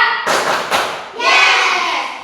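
Students in a classroom clap in unison, two sharp loud claps close together, then voices chanting together.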